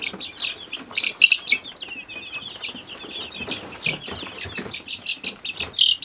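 Baby chicks growing flight feathers, kept alongside Muscovy ducks, cheep and peep in repeated high chirps with soft clucks and some wing flapping, close by and fairly quiet, with no talking.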